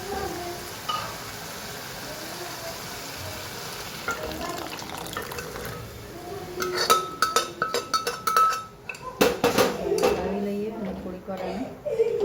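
Mixed dal is tipped into a pot of simmering gravy, bringing a burst of sizzling, clinking and stirring against the cookware in the second half after a quieter stretch of background hiss; a voice talks throughout.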